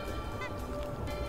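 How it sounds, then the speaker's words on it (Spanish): A bird in the video game Toree 3D calls with a honking, goose-like tone, sustained and fairly quiet over the game's background sound. "¡Wow, pájaro!"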